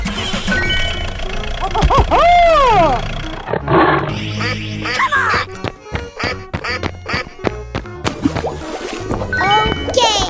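A cartoonish tiger roar from a 3D animal sliding game with a cow, elephant, gorilla and hippopotamus, loud and bright over busy game music, quacking effects and jingles, with a cheerful voice calling out.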